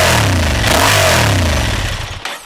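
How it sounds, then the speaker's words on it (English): A Honda XL750 Transalp motorcycle on its standard exhaust pipe revs loudly and close, giving a throaty, rumbling blip that settles and fades over about two seconds. "Now I think for a standard pipe that sounds pretty damned good"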